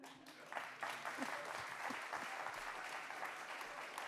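Younger members of a large audience at a congress closing ceremony break into sustained applause, a dense wash of clapping that stays steady for several seconds with a few whoops rising from the crowd.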